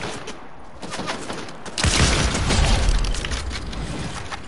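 Sniper rifle shots in a shooter video game crack out over a busy mix of gunfire and booms, loud and close, with no talking.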